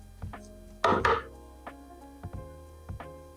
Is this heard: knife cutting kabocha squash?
yes